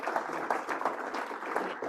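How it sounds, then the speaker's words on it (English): Brief applause from a small meeting group, scattered distinct claps in a quick uneven patter at moderate loudness, lasting only a couple of seconds. "we're gonna give a big round of applause"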